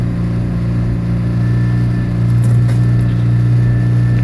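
A 1989 Chevy Tracker's 8-valve 1.6-liter engine runs after a cold start in freezing weather, a loud, steady, close idle with a low hum that rises slightly partway through.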